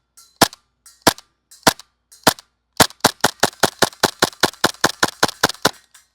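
Vorsk VMP-1 airsoft gun firing BBs: a few spaced single shots, then a rapid string of sharp, loud snapping reports in quick succession, with no voices.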